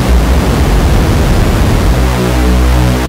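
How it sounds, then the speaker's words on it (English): Loud, steady wash of white noise from a Native Instruments Massive software synthesizer, filling the full range for about two seconds before a buzzy pitched synth tone takes over near the end. "I'm just getting white noise."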